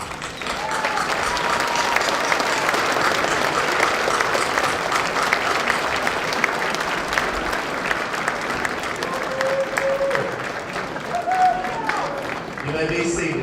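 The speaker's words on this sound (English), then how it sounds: "join me in giving them a round of applause" Sustained audience applause at a fall college commencement ceremony, a thick continuous roar of clapping from a large crowd lasting many seconds, tapering slightly near the end as a few louder individual claps stand out.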